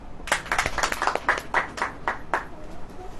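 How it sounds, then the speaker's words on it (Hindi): An audience claps hands in a burst of roughly ten loud, irregular claps that fade to scattered applause over a faint background hum. "ताली बजाओ।"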